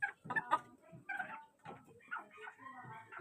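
Chickens in a chicken-wire pen cluck and murmur close by in short irregular bursts, several overlapping calls across a few seconds.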